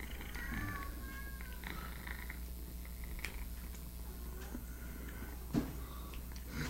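A cat purrs quietly and continuously up close, a low steady rumble with a faint meow-like sound early on and a small knock near the end, during an indoor equipment setup.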